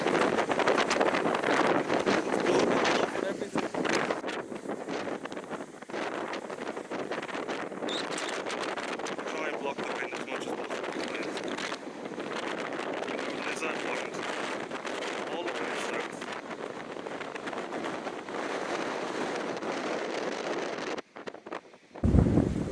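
Strong wind at a coastal cliff edge buffets the microphone in a steady, roaring rush that continues almost without pause, with a brief drop near the end.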